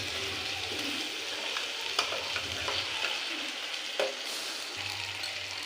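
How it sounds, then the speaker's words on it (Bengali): Chicken meat with salt is stirred in a frying pan for a chicken curry, giving a quiet, steady sizzle broken by occasional scrapes and clinks of the spoon. "নুনটা দিয়ে একটু নেড়ে নেবো মাংসটাকে"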